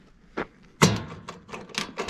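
Latches on a box of a new Thunder Creek EV990 fueling trailer being undone, giving several sharp metallic clicks and clunks spaced irregularly, one louder snap near the middle.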